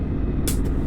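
Air parking brake on an International 4170 truck in American Truck Simulator: one short, sharp hiss of released air, followed by a fainter puff, over the steady low rumble of an idling engine.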